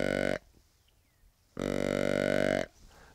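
A deer call imitates the tending grunt of a younger deer, two short, buzzy, slightly higher-pitched grunts separated by a pause of about a second, close and clear with no talk.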